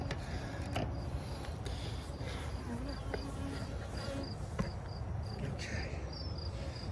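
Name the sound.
honey bees buzzing around hives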